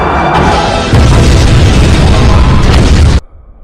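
A massive, continuous roaring explosion from bomb launchers during a naval battle between Japanese and Joseon warships, very loud and sustained for about three seconds before cutting off abruptly.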